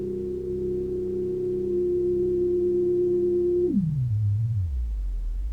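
A Korg Minilogue synthesizer's filter self-oscillates into a steady pure sine tone that holds, then glides downward in pitch and settles into a low hum, loud and close with no talking.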